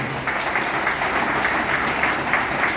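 An audience at a formal gathering honouring an institution's founder claps, a sustained, even round of applause that carries on for the whole stretch without breaks.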